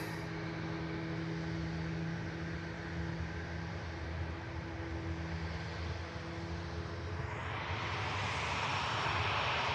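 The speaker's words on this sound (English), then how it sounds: "There's the 321 Neo on the way out, guys." An Airbus A321neo jet roars steadily on departure from Manchester Airport, a loud sustained engine drone with a tonal hum that swells and brightens toward the end.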